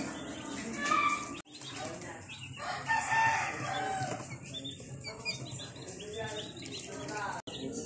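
Broiler chickens about 45 days old cluck and squawk steadily in a home pen, with wings flapping now and then and a voice talking over the flock.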